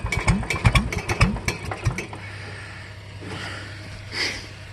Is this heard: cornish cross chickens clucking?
no